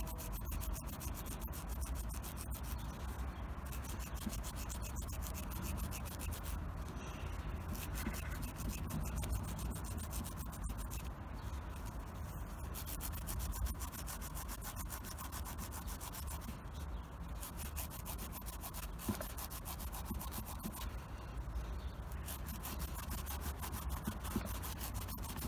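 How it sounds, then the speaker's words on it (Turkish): A scotch pad scours the copper section of a starter motor coil, making a continuous, quiet rhythmic rubbing and scratching close by with no talking. "Bakın bobinin şu kısmını skoçluyorum."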